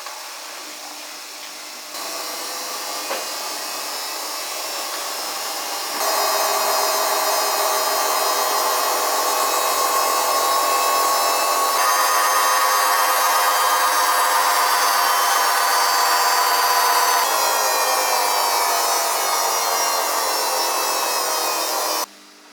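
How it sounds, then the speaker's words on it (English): A Dyson Contrarotator CR01 washing machine spins at the end of a rinse, a loud whirring drone that steps up in speed in stages and holds a high steady whine before cutting off abruptly. "So this is a spin at the end of rinse 1 of 2."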